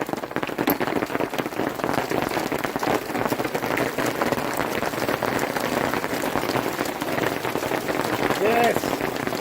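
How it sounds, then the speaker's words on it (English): Hail clatters down in a dense, steady patter during a Colorado storm, a loud unbroken crackle of hits on surfaces with brief voices faintly under it. "And we are getting hail currently."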